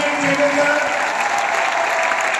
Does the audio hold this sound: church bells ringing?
no